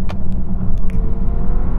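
Rolls-Royce Wraith and Bentley GT pulling away side by side in a rolling drag race from 50 mph in automatic comfort mode, heard as a steady, loud low engine and road rumble with a few sharp clicks near the start.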